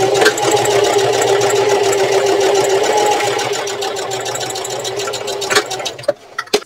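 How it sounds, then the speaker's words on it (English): A sewing machine runs a 5/8 inch seam on a purse panel, humming loudly and steadily at close range for several seconds before slowing and stopping, followed by a few small clicks and handling sounds. "now I want to sew down here using a 5/8 inch seam allowance"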